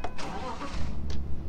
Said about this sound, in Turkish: Arabamızı çalıştıralım arkadaşlar.